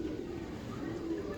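Low, soft cooing from a ringed breeding pigeon, the bird banded with number 93, a steady murmur close by that runs unbroken through the whole short moment with no talk.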